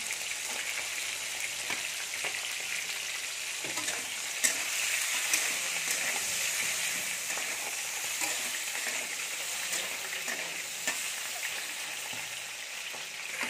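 Eggs seasoned with salt and turmeric fry in hot oil in a village kitchen, producing a steady, close sizzle throughout with occasional stirring clicks and no talking.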